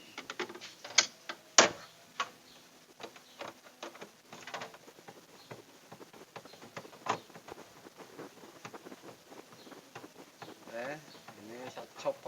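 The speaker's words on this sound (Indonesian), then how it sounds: "Ini saya copot baut-bautnya, biarin pada lari kemana." Bolts are removed from a refrigerator with a hand tool during evaporator repair work, giving a run of faint clicks and ratcheting taps, uneven in rhythm, with a few sharper metallic knocks and quiet muttering.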